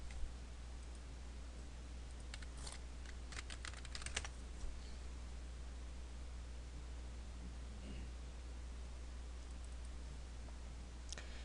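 Computer keyboard typing and mouse clicking while entering project details, faint short clusters of key taps and clicks over a steady low hum.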